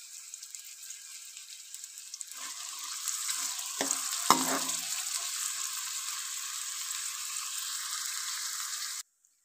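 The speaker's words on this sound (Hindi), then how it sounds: "हमने पहले प्याज को फ्राई कर लेना है।" Onions sizzle steadily in hot oil in a pan for beef karahi, with a spoon scraping and stirring through the hiss partway in; close and continuous with no talking.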